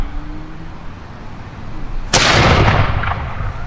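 A single loud musket-style blast from militia firing at a historical fall muster cracks out after a quiet stretch, followed by a rolling echo that slowly fades.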